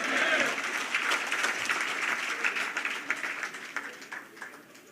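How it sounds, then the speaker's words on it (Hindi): Party workers at a BJP state office event applaud to welcome the Chief Minister. The dense crowd clapping is loud at first, then gradually thins and fades over about five seconds. "जोरदार तालियों के साथ में हम सब कार्यकर्ता माननीय मुख्यमंत्री जी का स्वागत करेंगे।"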